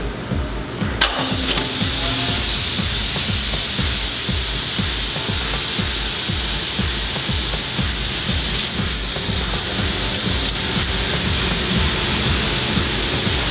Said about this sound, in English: That noise you hear is the exhaust fan running.